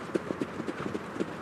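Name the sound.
racehorse hooves clip-clopping at Caen trotting race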